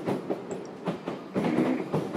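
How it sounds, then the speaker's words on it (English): A train rolls past with a steady rumble and rhythmic clickety-clack of wheels over rail joints, fairly close and continuous for a couple of seconds, with no voices. "A train, a train, a train, a train."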